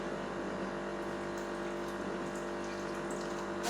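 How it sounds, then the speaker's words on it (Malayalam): Hot water poured into murukku dough in a home kitchen, a faint, steady trickling stream running continuously under a low background hum, with no talk. "ഞാൻ ചൂടുവെള്ളം ഒഴിച്ച് കൊടുക്കുന്നത്"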